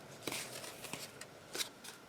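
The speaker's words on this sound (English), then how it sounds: "I'm going to get my little baby scissors and just kind of trim that off" Small scissors snip paper trim on a folded junk journal envelope, with a few short crisp cuts spaced irregularly, quiet and close, and no talk.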